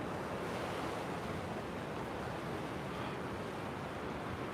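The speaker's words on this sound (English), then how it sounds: "So we're actually seeing the big waves here." Big ocean waves at La Caleta make a steady, dense roar of surf with some wind noise, continuous and even throughout.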